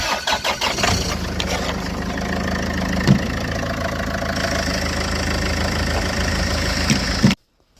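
Land Rover Freelander 2, previously a no-crank no-start with a steering lock fault, cranks briefly then catches and settles into a loud steady idle close by before cutting off abruptly.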